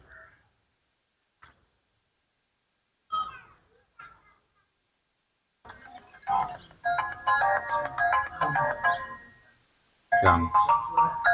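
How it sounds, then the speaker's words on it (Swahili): A phone ringtone starts about halfway through after a few faint, scattered sounds, playing a moderately loud melodic tune that pauses briefly and then resumes. "Pokea simu basi, mbona upokei?"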